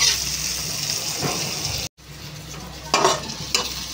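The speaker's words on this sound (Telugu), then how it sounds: "ఉల్లిపాయ అయితే ఫ్రై చేసుకోవాలండి." Chopped onion and green chillies sizzle and fry in a pan with a steady hiss, broken by stirring scrapes and a brief cut midway.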